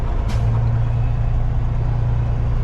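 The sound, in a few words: truck with trailer turning around, air brakes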